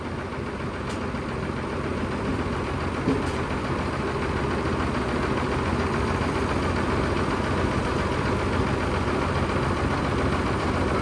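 An engine idles steadily throughout, a continuous low rumble with a faint rattling texture and no voices.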